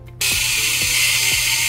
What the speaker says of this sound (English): you will have to remove the 6 screws that are holding the hinges